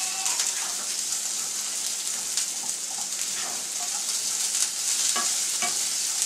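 Onion chunks, cut to match capsicum pieces, sauté in a hot pan with a loud, constant crackling sizzle, punctuated by occasional sharper clicks of a spatula against the pan, close up and without speech.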